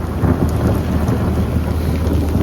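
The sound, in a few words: rain falling outdoors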